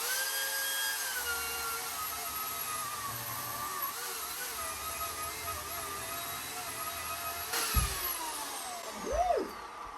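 A chainsaw carving wood for a sculpture runs as a continuous high, droning whine with a rich buzzing edge. Its pitch sags slightly as it cuts, then it rises and falls in a quick rev near the end.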